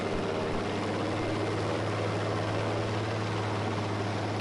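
A propeller plane's engine in a World War II style bombing video game drones loud and steady throughout, a continuous buzzing hum with no breaks and no voices over it.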